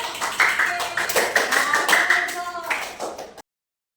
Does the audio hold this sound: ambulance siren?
no